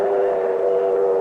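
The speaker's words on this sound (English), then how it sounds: "The train's pulling in." In a 1959 Gunsmoke Old West radio drama, a train pulls into the station with a steady, loud, sustained tonal wail like a whistle or rolling drone, close and unbroken, with no voices.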